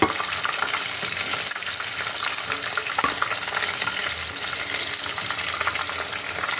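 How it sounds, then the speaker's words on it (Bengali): Chicken pieces for chicken fry biryani fry in hot oil over a high gas flame, a dense, steady crackling sizzle with small pops and occasional stirring, close and constant. "চিকেনটা যখন ভাজা হবে গ্যাসের ফ্লেমটা একদম হাইতে রেখে দিতে হবে"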